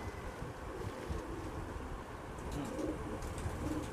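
Red-eyed pigeons of good quality coo softly in low, repeated bursts, most noticeable toward the end, over a steady background of wind and rustle.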